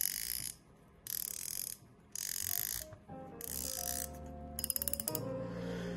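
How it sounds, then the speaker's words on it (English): A Shimano Stella FK 3000MHG spinning fishing reel sounds its drag in four rapid buzzing bursts of clicking, each followed by a short pause, then ends in mechanical knob clicks and fine ticking. "Here's a quick drag sound as well."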